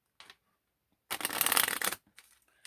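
A deck of tarot cards gets a quick riffle shuffle, a dense papery burst lasting about a second, with a few soft card slides and pulls before and after.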